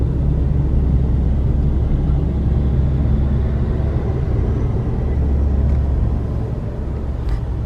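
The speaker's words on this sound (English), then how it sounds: "All this traffic for no reason." Inside a car stuck in slow road traffic, a constant low engine and road rumble drones on, steady and loud with no voices.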